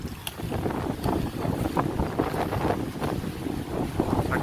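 Strong gusting wind buffets the microphone outdoors at a sugarcane mill estate, a continuous rumbling roar with irregular flutter, loud and close throughout.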